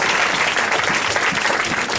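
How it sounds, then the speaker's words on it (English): Audience at a 5th grade graduation gives parents a round of applause: dense, steady clapping from a crowd throughout, fairly loud and close, with no talking over it. "So a round of applause for the parents."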